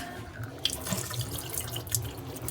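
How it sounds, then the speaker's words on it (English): Water poured out while cooking pizza with mushrooms, a soft steady trickle and splash into a sink, close and fairly quiet. "Spill out all the water."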